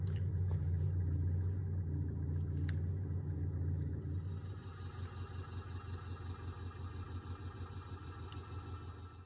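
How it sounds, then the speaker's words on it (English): Mercedes X-Class 2-liter turbo diesel engine in the Forza Horizon racing game, a deep steady idle drone that after a few seconds settles into a quieter, rhythmic diesel clatter. "Here is a 2-liter turbo diesel from X-Class."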